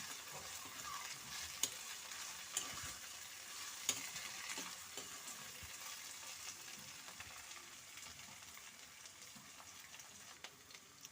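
Onions and mint leaves for a chicken gravy curry sizzle steadily in a pan while a spoon stirs them, with soft scraping and a few sharper clicks of the utensil over a constant frying hiss, no voices.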